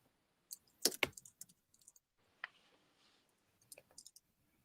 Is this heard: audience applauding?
no